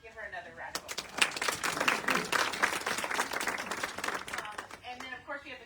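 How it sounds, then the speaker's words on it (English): A fashion-show audience breaks into a round of applause after a brief pause, the clapping building quickly and holding as a lively, moderately close patter before thinning out near the end. "So we just give her another round of applause."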